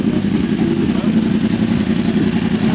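A Yamaha R1M sport motorcycle trimmed in carbon fiber sits at an outdoor bike wash, its engine giving a loud, steady close-up rumble with no clear revs, while people talk nearby.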